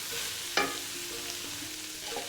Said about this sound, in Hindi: ये देखेंगे माशाल्लाह हमारे कीमे की अच्छी तरह भुनाई हो चुकी है